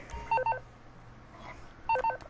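Phone keypad button tones from the video game GTA 5, two short bursts of rapid dual-tone beeps separated by a quiet gap, with soft game background ambience and no talking.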